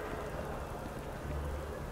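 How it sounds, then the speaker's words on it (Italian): Steady rainfall in New Atlantis from the video game Starfield makes a continuous, moderately quiet patter and hiss. A low rumbling swell rises near the end under the even wash of drops. "Eh sì, sta piovendo a New Atlantis."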